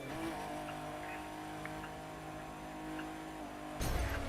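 Racing video game car engine droning steadily at a constant pitch while driving, moderately loud, ending with a sudden burst of harsher noise like a crash or scrape.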